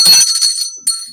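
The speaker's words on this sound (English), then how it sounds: "You can take a bell if you wanted to." A bell rings brightly twice, a sustained metallic ring fading over most of a second before a second strike, close and fairly loud.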